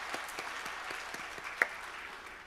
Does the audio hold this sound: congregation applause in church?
yes